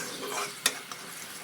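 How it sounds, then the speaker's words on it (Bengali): Coconut milk is poured into a pan of cooking curry with spices and oil for a katla fish and pointed gourd dish, giving a soft, continuous sizzle with one sharp clink and a lighter tap as it is stirred. "এই যে আমি নারিকেলের প্রথম যে দুধটা হয় সেটা দিয়ে দিই"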